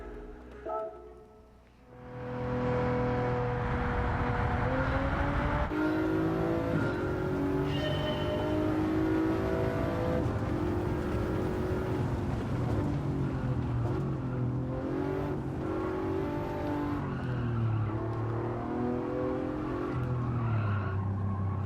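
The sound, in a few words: race car braking and cornering, Gran Turismo 7 video game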